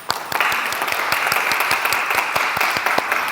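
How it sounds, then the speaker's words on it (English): An audience at a live self-care event breaks into applause, a sudden burst of many hands clapping close and loud that holds steady for a few seconds. "Give yourself a round of applause."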